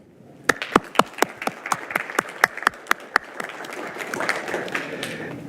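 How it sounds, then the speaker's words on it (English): Applause for city employees at a city council meeting, starting as sharp, distinct claps from a few people and swelling into a denser, steady round of clapping. "they deserve a round of applause as well"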